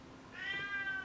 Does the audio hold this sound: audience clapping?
no